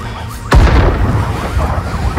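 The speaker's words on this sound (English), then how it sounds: "The explosions are going on." A sudden deep boom bursts out, followed by a rumbling, crackling roar of a synthetic-sounding explosion in the video game Watch Dogs: Legion that lingers over a dense background.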